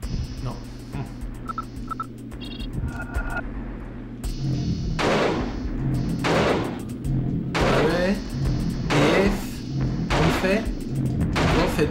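Revolver shots fired at a dog in the PS2 game Alone in the Dark: The New Nightmare come as a run of sharp, loud booming bursts after a quieter opening. A low game ambience runs underneath.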